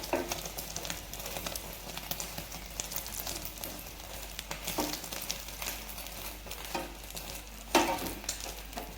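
Egg paratha frying in oil on a flat pan over medium-low flame, a steady soft sizzle and crackle with small pops and a brief louder spatter near the end, no voices.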